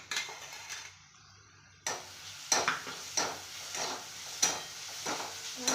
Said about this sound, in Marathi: त्याला परत परतून घ्यायचं